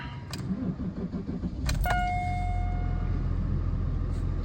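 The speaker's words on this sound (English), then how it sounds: "So let's just start the car." A BMW E39 5 Series engine cranks and catches after a few faint clicks, then settles into a steady low idle that hums close by for the rest of the moment, with no talking.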